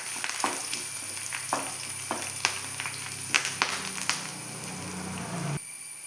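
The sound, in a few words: dried red chillies and curry leaves sizzling in oil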